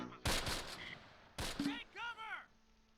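Gunfire in the Close Combat Last Stand Arnhem strategy game, with two loud broadband bursts of shots close by, each followed by short tonal chirps of game sounds.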